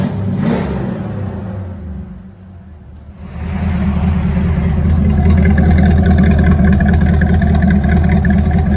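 A 1993 Ford Mustang GT with a 5.0 V8 and an aftermarket exhaust, a Flowmaster Super 10 or straight pipe, idles loud and close, a deep steady rumbling burble that dips briefly and then settles back into a strong even drone.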